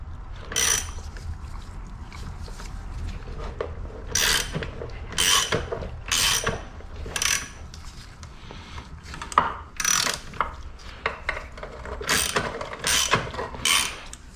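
A hand ratchet clicks in repeated bursts while tightening bolts to split the crankcase of a Honda NSR motorcycle engine, with sharp rhythmic pawl clicks and short pauses between strokes, close and clear with no talking.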